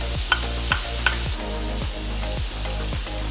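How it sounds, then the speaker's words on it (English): Garlic goes into softened vegetables sizzling loudly in a skillet, with a steady fry under a few scraping stirs and light utensil taps, heard close up with no voices. "I'm gonna go ahead and add my garlic."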